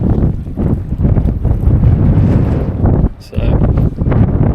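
Strong wind buffets a microphone on an open coastline where bait fish gather, a continuous loud rumbling roar with gusting swells, one brief lull near the end before it surges back.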